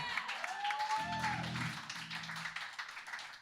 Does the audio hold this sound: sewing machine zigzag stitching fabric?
no